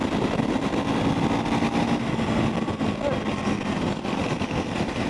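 Triumph Scrambler 400 X motorcycle engine climbing a steep uphill gradient at around 60 mph in fifth gear, a steady, continuous drone mixed with heavy wind rush throughout, with no clear changes in pitch.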